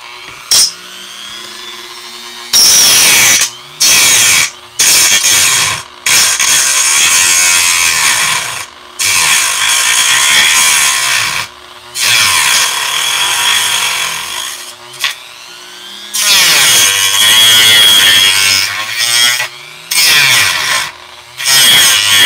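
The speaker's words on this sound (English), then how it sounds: "Now this particular sanding part is a really rough grit so we can get through it quickly." Rough-grit sanding on a plastic action figure part, loud close scratchy rubbing in repeated strokes separated by short pauses.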